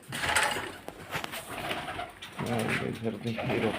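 Pigeons cooing close by in soft, repeated throaty calls while being fed, mixed with someone talking and some light rustling.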